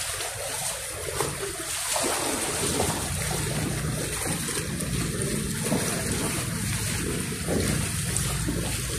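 Light rain drizzles steadily during Typhoon Carina near SM East mall, a constant soft hiss of water that stays even throughout with no voices.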